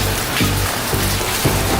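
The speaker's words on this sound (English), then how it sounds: "and it's raining." Steady rain falling in Honduras, a dense hiss of drops on surfaces with a few heavier splashes, continuous and close, with no voices.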